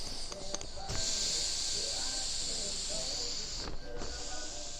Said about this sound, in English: Take the air out of it.